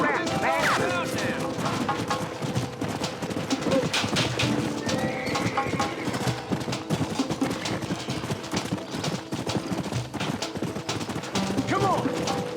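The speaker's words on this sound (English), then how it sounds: "Them's our horses." Horses clop and whinny in the video game Red Dead Redemption amid a busy, noisy scene with scattered bangs, like gunfire, and voices talking over it.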